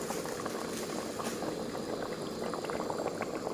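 Thai green curry bubbling at a steady rolling boil in a pot, a dense continuous gurgle and popping of liquid heard close up with no talking.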